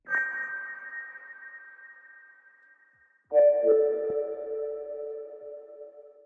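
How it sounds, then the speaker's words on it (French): Two synthesizer notes with a sonar-like ping, each a clean, sustained tone with a sharp attack that rings out and slowly fades; the second sits lower and starts a little over three seconds after the first. "On a aussi quelques notes de synthétiseur."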